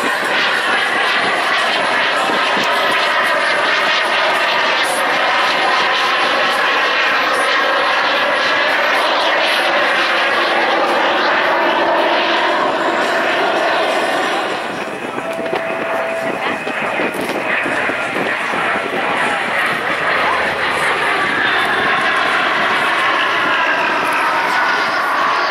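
A Fouga Zephyr jet roars loudly overhead at an air show, in landing configuration, a continuous whining engine drone that shifts in pitch partway through as it passes.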